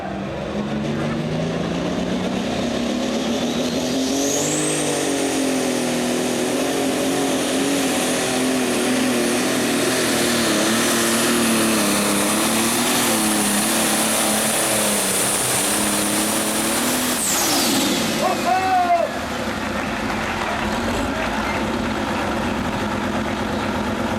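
A pulling tractor engine at a tractor pull roars loudly and steadily for a long stretch, climbing to a high, sustained whine before cutting off, with crowd noise and announcer voices underneath.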